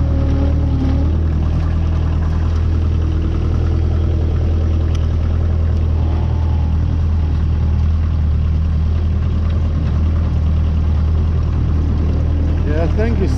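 A diesel engine on an Excel Hustler mower runs steadily just after an ether-assisted start, a loud, continuous low rumble and idle close by, with people talking over it now and then.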